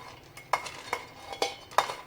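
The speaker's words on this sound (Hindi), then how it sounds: "अब इसमें दाल मिला देती हूँ" Meat, lentils and garlic tipped into a pressure cooker, a series of sharp metallic clinks and scrapes of a spoon against the pot, several distinct knocks at irregular intervals, close and moderately loud.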